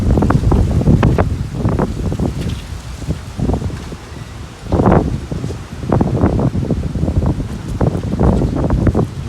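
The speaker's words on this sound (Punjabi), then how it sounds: "ਦੇਖੋ ਕਿੰਨੀ ਹਵਾ ਚੱਲਦੀ ਆ।" Strong cool wind buffets the microphone in heavy, uneven gusts on a cloudy, dusty day, rising and falling in loud bursts with no talking.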